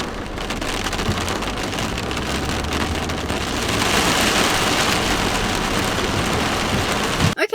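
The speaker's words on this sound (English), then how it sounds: "I'm just going to wait until the rain settles down." Heavy rain pours down steadily in a dense, loud hiss on surfaces, continuous for several seconds and slightly intensifying midway, with a couple of brief knocks at the very end and no voices.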